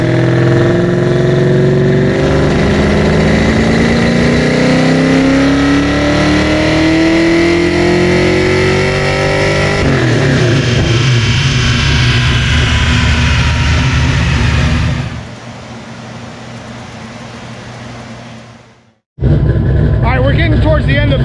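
A built 393 stroker V8 in a street car revs hard on a dyno during a tuning pull, a loud sustained engine roar climbing steadily in pitch, then dropping off and cutting out briefly before roaring again near the end.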